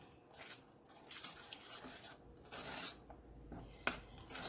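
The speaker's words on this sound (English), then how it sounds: "Stir that up." Unsweetened shredded coconut is being stirred into a thick oatmeal banana cake batter with chia seeds: soft, uneven scraping and clinking of a utensil against a bowl in repeated strokes, faint and close, with no talking.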